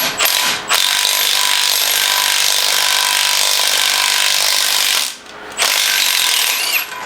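Impact wrench driving a thread tap into the injector cups of a 7.3 Powerstroke engine head from a Ford E-350 van, a loud sustained whirring run with brief pauses, close and alone without talking.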